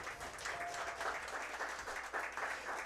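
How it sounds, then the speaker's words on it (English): An audience at a racing talk show applauds a race car driver, a fairly faint but continuous patter of clapping with slight swells. "How about a nice round of applause for Jordan DeVoy?"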